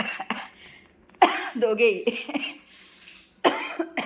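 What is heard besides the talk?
coughing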